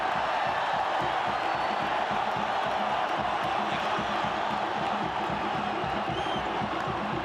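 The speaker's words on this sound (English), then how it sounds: "the crowd's calling for him to go off" A large rugby crowd at the 1993 New Zealand versus Manu Samoa test roars and shouts continuously after a referee is hurt, a dense far-off wash of voices with no single call standing out.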